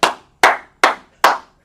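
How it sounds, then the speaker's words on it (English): Four sharp, evenly spaced claps from a single nearby person at a religious class gathering, each clap ringing out in a steady rhythm. "Clap it up for sister right here."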